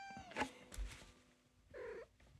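A cat makes two short meows close by, one near the start and a softer one later, in a quiet indoor room.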